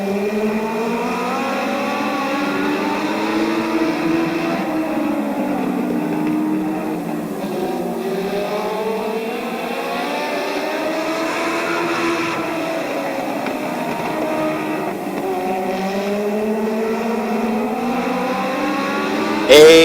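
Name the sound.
race cars racing at Barberton Raceway Park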